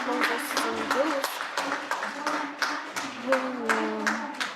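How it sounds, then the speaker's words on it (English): Audience at a partnership and fundraising event applauding the organizers, scattered rhythmic clapping mixed with overlapping voices talking throughout. "please, colleagues, make a round of applause to those"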